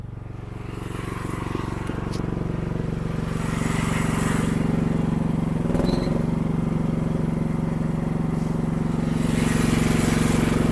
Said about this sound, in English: these little blades here, and these blades spin around and just whack down anything it's past